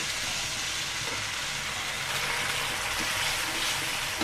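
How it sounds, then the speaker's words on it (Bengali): Potatoes with turmeric, chili and spices fry in hot oil for a fish curry, giving a dense, steady sizzle throughout at moderate loudness. "আলু আর হলুদ মরিচ মশলাগুলো আমি ভালো করে কষিয়ে নেব।"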